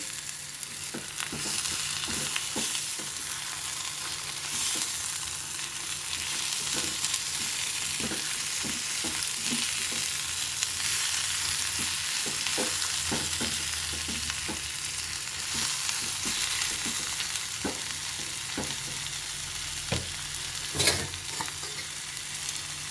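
Drumstick pieces and a chopped tomato frying in masala for a cashew and boondi drumstick curry, a continuous close sizzle with occasional soft stirring taps throughout, no voices.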